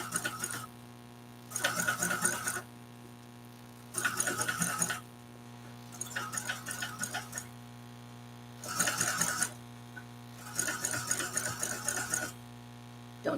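An industrial sewing machine stitches a bag in several separate bursts of rapid mechanical whirring. Each burst lasts about a second, with short pauses between them, over a steady low hum, close and clear.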